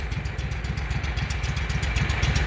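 A Walker riding mower engine, one with a fault that backfires through the carburetor, idles steadily up close with a rapid, even low thumping pulse throughout and no talk.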